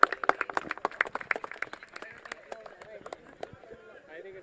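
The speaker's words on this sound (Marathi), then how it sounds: "येस मित्रांनो जरा टाळ्यांचा कडकडाट थांबून देऊ नका" A crowd applauds at a cricket trophy prize ceremony, the Shri Datta Krupa Chashak 2026, with sharp, rapid claps that are strongest early and thin out. Someone talks over the clapping the whole time.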